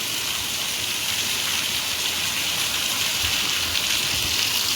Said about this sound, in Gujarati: તો ફાઇનલી વરસાદ આવી ગયો છે ધોધમાર